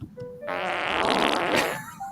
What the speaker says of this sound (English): if I knew what the cues were to sound the fart sound effects